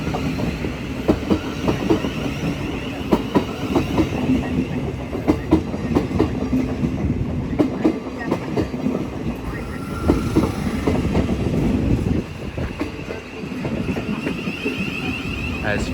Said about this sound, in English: As 377315 and its classmate sets up for a departure bound for London Bridge.